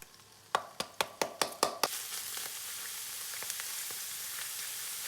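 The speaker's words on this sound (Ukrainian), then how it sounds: "А тим часом на олії обсмажте дрібно нарублену цибулю 3 хвилини." A few sharp knocks or taps, then a steady hiss of finely chopped onion frying in oil, close and continuous with faint crackles.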